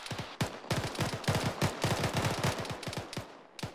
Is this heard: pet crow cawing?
no